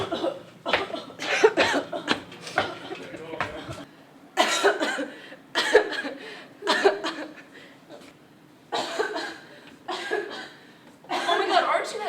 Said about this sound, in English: I have this whipping cough.